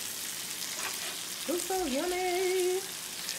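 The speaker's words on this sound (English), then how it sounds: "so I'm about to go ahead and flip my fish" Peri peri fish sizzling and frying steadily in a pan just after being flipped, a continuous close hiss running under a voice and a brief melodic tone.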